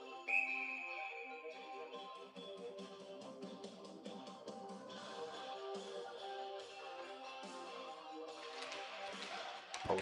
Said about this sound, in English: they blow the whistle